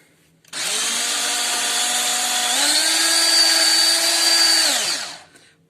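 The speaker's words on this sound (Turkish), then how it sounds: "Beyaz, beyaz yumurtalar bembeyaz olana kadar karışacak." An electric mixer beats egg whites with a pinch of salt, a steady high motor whine that starts abruptly, shifts up in pitch partway through and then winds down, loud and close, with no talk.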